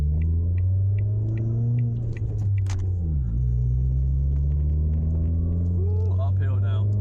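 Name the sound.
1.4 Ford Fiesta driving uphill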